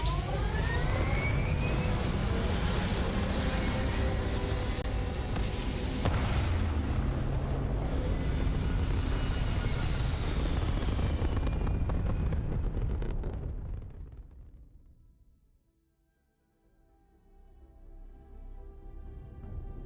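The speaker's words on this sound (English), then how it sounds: "Liftoff looks good." Spaceship lifting off in Starfield, a loud roaring rumble with rising whine that builds for several seconds, then drops away sharply to near silence before a low hum returns.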